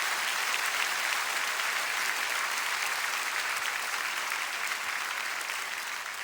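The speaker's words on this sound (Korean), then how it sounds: "다 함께 큰 박수로 영광을 올려드리겠습니다." A congregation at a Korean church prayer meeting gives a big round of applause, bright and dense clapping that holds evenly throughout with no talk over it.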